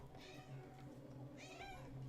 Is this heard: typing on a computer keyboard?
no